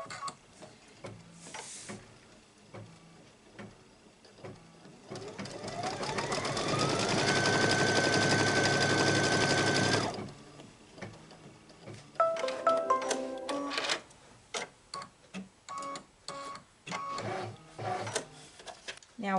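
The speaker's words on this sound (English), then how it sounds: "you're going to stitch the piece 6 trimming and placement line" An embroidery machine stitches a trimming and placement line for a quilted wall hanging. It gives one sustained loud whirring run with a rising tone, then scattered clicking and short mechanical bursts. A person talks over parts of it.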